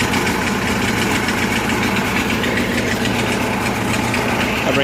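Kohler 7000 watt generator mounted in a bus, running rough after carburetor trouble, a loud close steady mechanical chug with a fast knocking pulse throughout.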